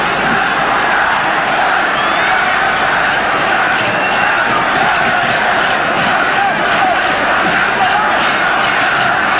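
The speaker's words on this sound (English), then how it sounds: "The crowd chanting Zambia as he still come forward." A dense football stadium crowd roars and chants throughout at a 1994 African Cup of Nations final between Nigeria and Zambia, a loud continuous wall of voices with no clear pause.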